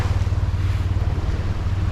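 A sailing yacht's engine runs while motor sailing on the open Pacific, a loud, steady low throb with a pulsing rhythm blended with wind and water rush, close and continuous with no voices.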